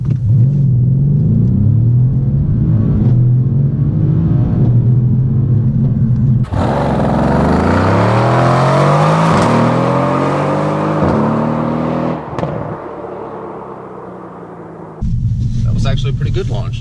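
A 503-horsepower Mercedes C63 AMG launches at full throttle with traction control on, its loud engine rumble rising through rapid gear changes in rising and falling sweeps before settling back to a deep idle.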